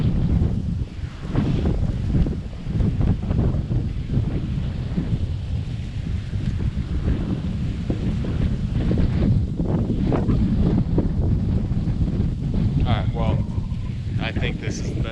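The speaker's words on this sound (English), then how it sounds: "you could probably tell it's pretty strong winds" Strong outdoor wind buffets the microphone continuously during a deer hunt, a loud rumbling roar with constant gusting and no letup, drowning the scene throughout.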